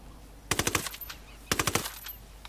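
Automatic gunfire in the video game Ghost Recon Wildlands: two sharp bursts of rapid rounds about a second apart, loud and close, with no voice over them.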